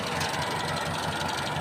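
A vehicle engine runs on a rough road during a camping trip to Radar Hills. It gives a steady, loud, close rumble that continues unbroken throughout, with no talking.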